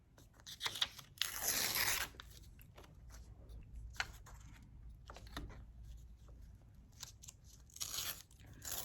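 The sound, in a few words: tearing paper to make a rough edge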